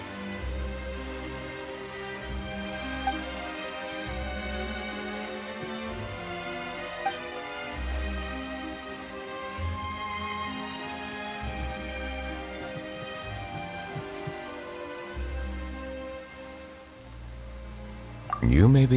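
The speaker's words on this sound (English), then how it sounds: "Why is it raining all of a sudden?" Steady rain falls in Genshin Impact, a soft, continuous patter under music and occasional speech.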